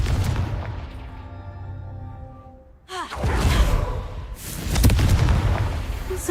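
A Confringo spell from Hogwarts Legacy sets off two loud booming blasts with a rumbling tail, the second about two seconds after the first, close and with no voices.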